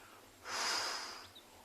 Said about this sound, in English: It almost sounds like someone breathing in and out deeply. That hissing, huffing sound.